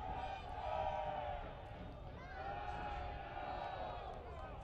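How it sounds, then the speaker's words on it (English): Soccer crowd at a Rhinos stadium match, supporters' groups chanting and cheering in a steady, distant roar that swells and dips, with a broadcast voice faintly over it. "The Rhinos crowd getting into it, led by the Oak Street Brigade and Flower City Stampede."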